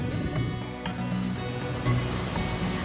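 Sea waves rolling onto a beach shore, a steady continuous wash of surf with soft swells, moderately loud and close, with no voices.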